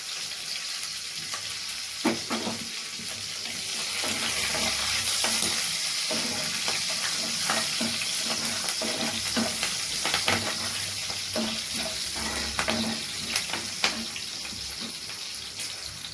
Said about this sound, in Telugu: చూడండి, ఆయిల్ వేడెక్కింది. పచ్చిమిరపకాయలు, కొంచెం కరివేపాకు వేసుకోండి.